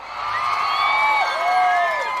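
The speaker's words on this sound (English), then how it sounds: "The crowd is going wild." Crowd cheering with high, sliding whoops and shouts layered over a continuous roar, loud and sustained across the short stretch.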